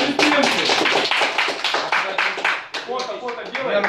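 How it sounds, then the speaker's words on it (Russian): Audience applause at a sport shooting award ceremony: a burst of dense, close clapping from a crowd that fades and picks up again. "Аплодисменты!"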